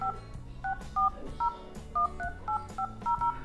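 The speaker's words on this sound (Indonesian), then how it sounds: "Coba kita cek untuk telepon SIM satunya ya." Phone keypad dialing tones from a mobile handset placing a call on SIM 1, a quick series of about twelve short two-tone beeps in an uneven rhythm, clear and close over a faint low background hum.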